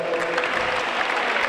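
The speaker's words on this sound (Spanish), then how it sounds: "Muy bien, un aplauso." Audience applause at a futsal club agreement signing event in Archena, a steady dense wash of clapping filling the whole short stretch at moderate loudness with no talk over it.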